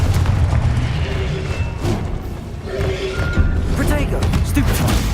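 A Confringo fire-blast spell explodes in Hogwarts Legacy combat, giving booming thuds and crashing impacts amid a dense, loud battle, with spoken voices mixed into the din.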